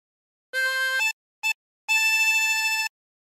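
Harmonica playing phrase two of Lavender's Blue: a held blown note, a brief second note after a gap, then a longer sustained breathed note, each clean and reedy, alone with no talk.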